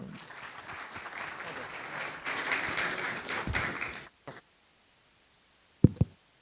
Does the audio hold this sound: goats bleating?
no